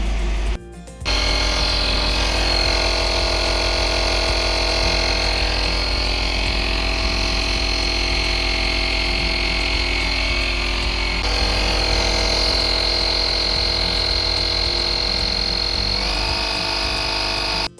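A 12 V AC/DC tyre inflator powered from a car runs steadily with a constant, buzzing motor-and-pump drone after a brief start, loud and close, holding an even tone for the whole stretch with slight shifts late on.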